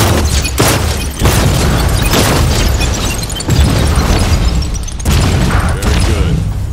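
Secondary-mode gunfire in the Defector VR shooter: loud repeated booming blasts and bursts, roughly one every second or so, dense and continuous with no talking.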